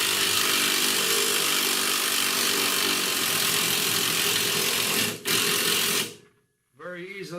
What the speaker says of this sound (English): putting these hangers to where we can use the impact on both sides